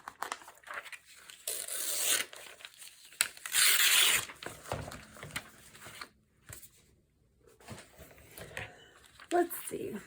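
Scissors cut out a paper piece for a junk journal tag: close rasping snips and paper rustles come in bursts with pauses between them, and a voice speaks softly under the cutting.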